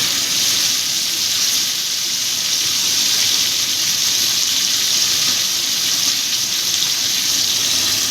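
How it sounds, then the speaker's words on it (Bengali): Tap water running steadily into a rinsed kitchen mixer-grinder jar, a continuous close hiss and splash with no pauses, heard alone. "মিক্সিং জারটা ধুয়ে একটু জল দিয়ে দিচ্ছি।"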